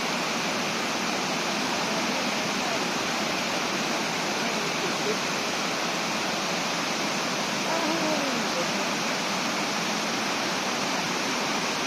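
Mae Phun waterfall in Uttaradit, Thailand, just after rain: a steady, dense rush of falling water roars without pause for the whole stretch, close and full, with no voices over it.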